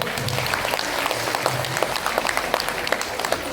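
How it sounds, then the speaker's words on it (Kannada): Loud, sustained applause from a seated audience at a public event, many hands clapping densely and evenly throughout. "ಇನ್ನೊಮ್ಮೆ ಜೋರಾದ ಚಪ್ಪಾಳೆ."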